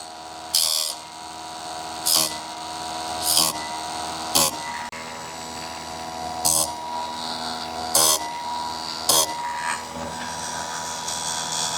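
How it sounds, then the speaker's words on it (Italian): A chainsaw chain's teeth being sharpened by hand with a file, heard as a steady scraping rasp, broken by a few louder, brief metallic bursts at irregular intervals. "una volta aver fatto le operazioni di limatura dei denti della catena"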